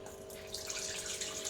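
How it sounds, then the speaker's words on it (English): Water, 800 ml, pours steadily into flour for kueh kaswi, a soft continuous splashing trickle close by, with no talking. "So now the 800 ml of water."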